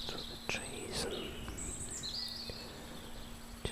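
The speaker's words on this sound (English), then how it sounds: "see what sort of birds I could hear and see." Birds chirp and call intermittently from a distance over a quiet outdoor background with faint insect-like hum.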